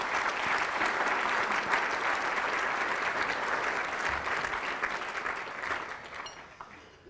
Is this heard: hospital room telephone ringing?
no